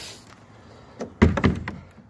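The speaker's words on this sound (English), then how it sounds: "That door's hard to shut." A wooden chicken coop door is pushed shut with effort, a few close knocks and a solid thunk followed by rattling taps after a quiet lead-in.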